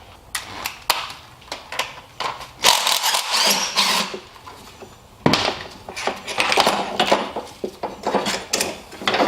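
A ratchet works two 12mm bolts off the throttle cable bracket on a V6 Mitsubishi Diamante, Chrysler Sebring or Dodge Stratus engine, making irregular metallic clicks and clatters in bursts with short pauses between them.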